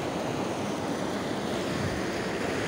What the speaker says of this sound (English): You can see that the waves are not really reaching up in there unless the big ones come